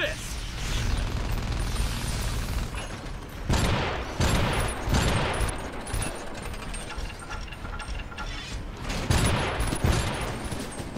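A flak machine gun fires in the video game Iron Brigade, with dense bursts of rapid gunfire and explosive booms in several loud clusters over a rumbling game soundscape.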